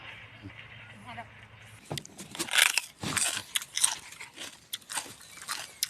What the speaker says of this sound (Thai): นั่งกินพริก